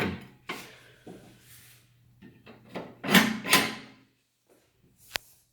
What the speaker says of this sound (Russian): Регулировка воздуха осуществляется через язычки.